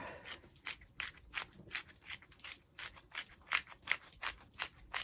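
A hand-twisted pepper mill grinds pepper over salmon fillets being seasoned, a quiet close rhythmic series of about sixteen rasping crunches at a steady pace, with no talking.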